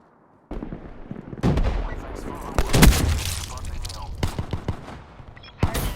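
Explosive grenade-launcher fire from the War Machine scorestreak in Call of Duty Black Ops 3, with loud booming blasts and sharp impacts over sustained battle noise, plus a final sharp blast near the end.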